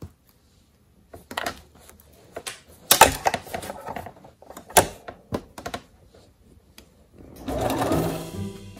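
Sewing machine stitching quilted fabric for a fabric basket, heard as short bursts of rapid mechanical tapping separated by pauses and handling knocks, ending in a denser rush; close and fairly clear.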